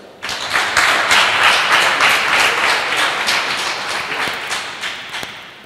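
A crowd claps for a bakers' association at a bread-baking contest in Benin, dense steady applause that starts suddenly, holds strong, then tapers into scattered claps.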